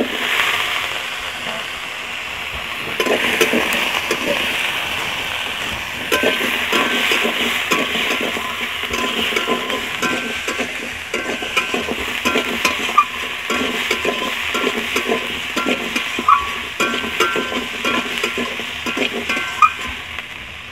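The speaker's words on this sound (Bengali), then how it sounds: "এখন আমি আলুগুলো উঠিয়ে দিচ্ছি।" Potatoes frying in a pan with spices are stirred with a utensil, giving steady sizzling crackle punctuated by repeated scraping and clinking strokes, close and moderately loud throughout.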